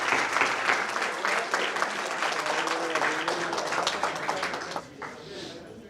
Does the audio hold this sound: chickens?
no